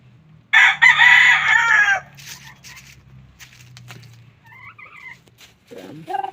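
A seven-month-old broodcock rooster lets out one loud, close crow that lasts about a second and a half. Quieter scattered bird sounds and faint noises follow, then a short voice near the end.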